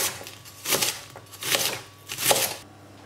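Knife roughly chopping pak choi leaves on a board, three distinct bursts of crisp cutting strokes spaced about a second apart, close and fairly loud, with no talk.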